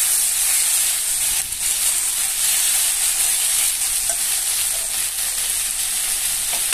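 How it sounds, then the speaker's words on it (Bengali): A spice mixture with tomato and capsicum frying in a pan for dhaba-style chicken curry, producing a loud, constant close sizzle and hiss that holds steady throughout with no voices. "এখন ভালো করে মশলাটা ভেজে নিব"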